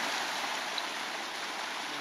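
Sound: waterfall in Pelister National Park

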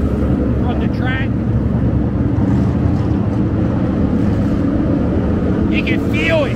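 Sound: NASCAR race car engines passing on track

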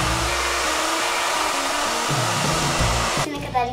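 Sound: hair dryer drying freshly cut hair

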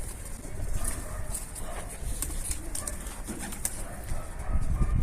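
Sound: pigeons cooing

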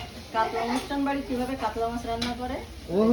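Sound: mustard oil sizzling in a pan

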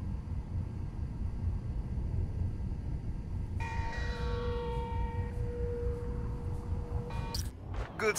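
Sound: church bell in Spider-Man Miles Morales video game

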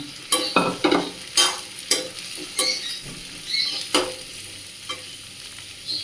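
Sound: raw papaya shreds frying in oil

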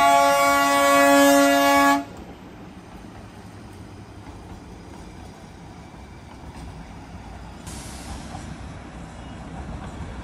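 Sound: Darjeeling toy train passing

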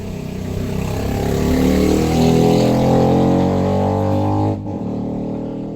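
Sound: loud motorcycle passing by

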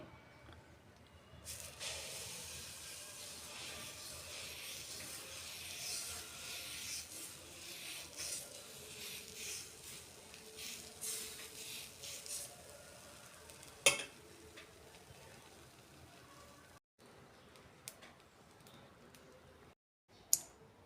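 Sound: dosa batter poured onto hot pan, sizzling

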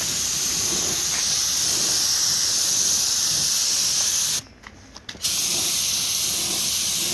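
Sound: spray painting the Zubr tiller cutter housing

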